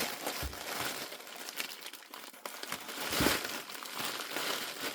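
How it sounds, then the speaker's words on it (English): Plastic packaging of a diamond painting kit is cut open, giving continuous close crinkling and rustling with scattered sharper crackles, fairly quiet throughout. "Now I'm going to cut this open through this way."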